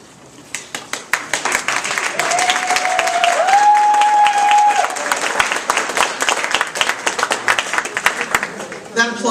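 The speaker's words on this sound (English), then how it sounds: "That applause is not for me." Sustained applause from an audience at a Toastmasters Distinguished Toastmaster award ceremony, dense clapping swelling to a steady roar then thinning into scattered claps, with a voice speaking over it partway through.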